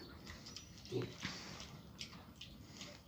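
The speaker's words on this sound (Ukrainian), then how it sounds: "Ось такий кабанчик" Soft, low grunts from a small Vietnamese pot-bellied piglet come in a few short snuffles, faint and close, over quiet background rustling.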